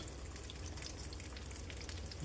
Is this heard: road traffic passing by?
no